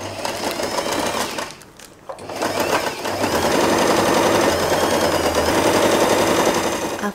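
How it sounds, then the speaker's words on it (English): Sewing machine running steadily as it stitches a folded fabric seam for a wide scrunchie, loud and close, with a brief pause near the two-second mark before it resumes continuously. "So I will fold the fabric in half and sew all along the fabric"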